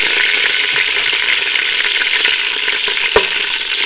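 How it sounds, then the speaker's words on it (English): Vegetables sizzle loudly in hot oil on an electric stove, a dense continuous crackling hiss close up, with a single clink near the end. "Just start to sizzle."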